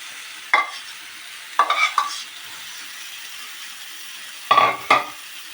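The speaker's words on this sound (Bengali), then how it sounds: "এরপর বন্ধুরা এইভাবে আমি চিকেনটাকে কষতে থাকবো" Raw chicken being stir-fried in a pan for a Bengali dish, heard as a few brief scraping stirs with soft sizzling between them, separated by quiet pauses.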